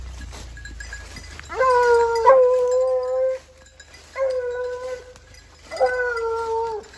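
Hunting dogs on a trail in the French countryside give long, drawn-out baying howls in three separate bouts, fairly close and clear against a quiet background, with no talk over them.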